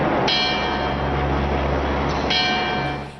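Church bells peal for Pope Benedict XVI's departure from the Vatican, a loud continuous ringing with sustained metallic overtones and a fresh stroke swelling in partway through, fading slightly at the end.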